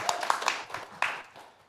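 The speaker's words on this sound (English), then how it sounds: "Let's clap." An audience claps at a Web3 event at EmpireDAO in New York, a brief scattered burst of separate hand claps that thins out and fades within two seconds.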